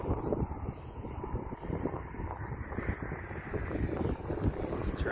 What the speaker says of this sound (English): the wind is blowing pretty strong right now